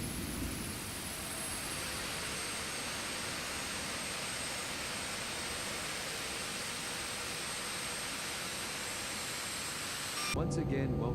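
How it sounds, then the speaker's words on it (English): Embraer E175 regional jet engines spinning up, a steady loud broadband roar with a high whine running throughout, dropping off abruptly near the end as another sound cuts in. "I can let you hear the engines."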